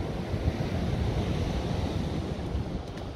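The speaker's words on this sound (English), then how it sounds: "even with a 30 mile an hour crosswind" A strong 30 mph crosswind roars across the microphone on Chesil Beach at Abbotsbury, a shingle shore, with surf washing in underneath as a constant loud rumbling buffet, no voices.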